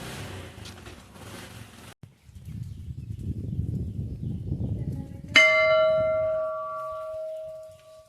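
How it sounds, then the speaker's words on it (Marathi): A large temple bell struck once, its loud metallic clang ringing out with a long sustained, slowly fading hum after a stretch of quiet footsteps and low ambient noise. "मस्तपैकी मोठी घंटा पण आहे."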